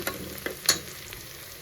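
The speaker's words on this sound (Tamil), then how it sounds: "வெங்காயம் வந்து வெந்துருச்சு வதங்கிருச்சு" Onions sautéing in a pan for tomato rice made with ration rice: a soft, low sizzle with a few sharp spoon clicks and scrapes against the pan, with no voices.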